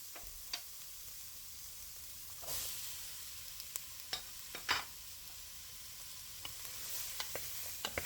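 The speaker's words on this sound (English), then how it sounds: "Let's add our onions and garlic immediately after removing the lamb." Onions, garlic, carrots and celery sautéing in a stew pot after the lamb is removed, giving a soft continuous sizzle broken by scattered clicks and a few louder stirring scrapes, with no talking.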